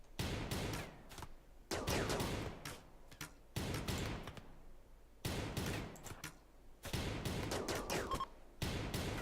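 Repeated bursts of gunfire from a RimWorld colony firefight, coming in several loud, rapid volleys separated by short pauses of near silence.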